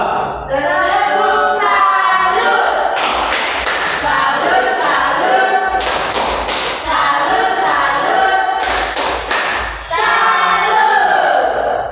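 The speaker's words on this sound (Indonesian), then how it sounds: "tepuk salut untuk kelompok 2." A class group chants a rhythmic salute cheer for group 2, voices in unison punctuated by three sharp bursts of clapping, loud and close in a room.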